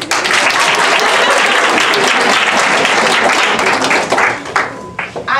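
Dense audience clapping fills a hall at a personal-development talk, steady and loud throughout before thinning into scattered claps near the end.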